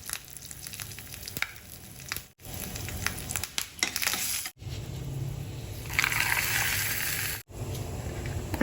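Mustard seeds, a dried red chilli and curry leaves sizzle and crackle steadily in hot oil while tempering for coconut chutney, a loud continuous fry with a few brief breaks.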